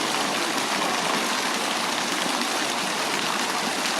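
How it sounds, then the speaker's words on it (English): Shooting water fountains in the Generalife courtyard of the Alhambra give a continuous dense splashing hiss, even and fairly close, with no voices. "One of the signature features of the Generalife, or the Summer Palace, is the shooting water fountains."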